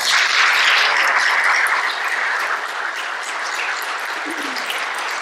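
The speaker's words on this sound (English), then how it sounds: "Once again, how about a round of applause?" A round of applause from the audience at a church Lent mission gathering, dense steady clapping from many people that eases slightly in level toward the end, with no speech.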